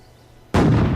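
A cannon in the video game Ylands fires a cannonball at a tree, a sudden loud booming blast that breaks the near silence and rolls on without fading for the rest of the moment.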